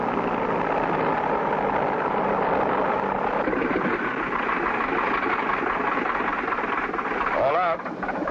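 An airplane engine drones steadily as the plane taxis on a runway in a cartoon, a constant mid-pitched hum filling the whole stretch, with voices speaking over it.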